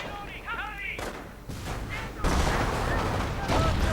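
Gunfire and explosions crackle through a World War II video game battle between American and German forces, with dense rattling shots and booming blasts continuing steadily throughout.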